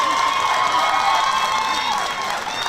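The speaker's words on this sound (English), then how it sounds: "He leaves to an applause from the Texas fans" Texas fans at a youth baseball World Series championship game give a pitcher steady applause and crowd cheering, a broad continuous wash of clapping with no talk over it.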